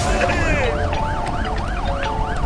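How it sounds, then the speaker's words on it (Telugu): An ambulance siren wails loud and close in a Telugu thriller film, a steady repeating up-and-down sweep over dense traffic and street noise. "అంబులెన్స్ వస్తోంది."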